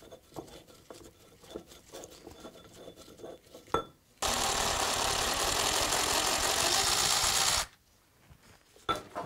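A bearing race being pulled off the head of a Bridgeport milling machine during cleanup, heard as a loud, steady rasping and grinding burst of about three and a half seconds, with quieter scraping and clanks before and after.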